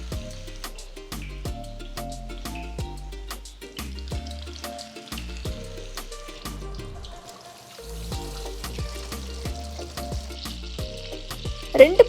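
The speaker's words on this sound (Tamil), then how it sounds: "மெதுவாக கபாப்ஸை எண்ணெயில் போடுங்க." Peshawari chicken kebabs shallow frying in a wide pan of oil give a continuous crackling sizzle, close and steady, with repeated sharp pops and spatters throughout.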